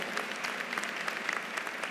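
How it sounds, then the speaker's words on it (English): An audience at a Spelman College commencement ceremony breaks into a burst of dense, steady applause, many hands clapping together in a large hall for about two seconds. "You need to give yourself a round of applause because you did that."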